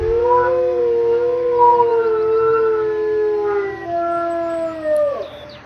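A wolf in the WolfQuest video game gives one long, loud, sustained howl that holds steady then slowly falls and breaks off near the end, with no voices.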